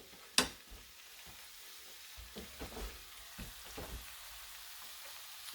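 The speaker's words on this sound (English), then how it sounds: "Mix that bacon up." Bacon and green beans sizzle in a skillet with a steady soft frying hiss, broken by a sharp scrape and several clattering stirs of a utensil against the pan, close and fairly quiet, with no talking.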